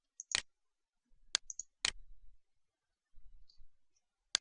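A few sharp computer mouse clicks while saving a file in Solid Edge, about four crisp isolated clicks spaced irregularly in an otherwise quiet room, with faint low handling noise between them.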